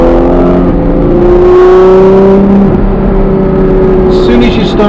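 Ferrari 812 Competizione V12 under acceleration, a loud, deep, steadily rising engine note that holds through the whole stretch, close up from inside the car.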